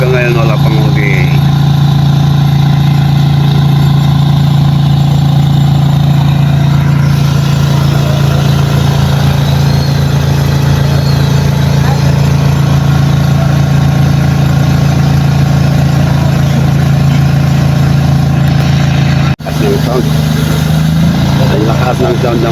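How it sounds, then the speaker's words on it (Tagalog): A backhoe engine runs loudly and steadily beside the Pasig River, a constant near drone throughout, with people talking over it and a brief dip near the end. "Ang lakas ng sound ng makina."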